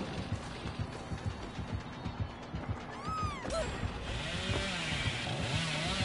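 A chainsaw revving in the video game Dead by Daylight, a faint rough buzzing engine with a rising whine midway, blended into busy game noise.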